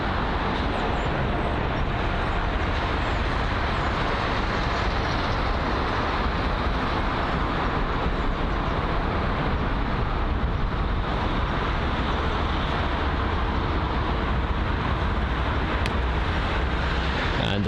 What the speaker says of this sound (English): this here, the United Airlines Boeing 777-200 arriving from San Francisco